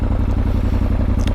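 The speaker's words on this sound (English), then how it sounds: "Exhaust, I don't know if it comes across the camera, but it sounds good just sitting there." A 2022 Yamaha Tenere 700 motorcycle idles nearby, its exhaust giving a loud, even, rapid pulsing thump with a steady rhythm and no speech.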